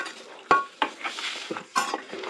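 Fried tomato, onion and green chili are sautéed in a pan for a chicken dish, with sharp metal spoon clanks and scrapes against the pan over a faint sizzle.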